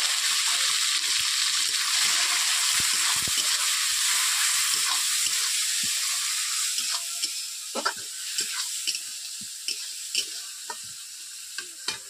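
Chopped onion and tomato fry for a fish curry, a loud, dense sizzle at first that eases somewhat, punctuated by frequent sharp spatula scrapes and taps against the pan.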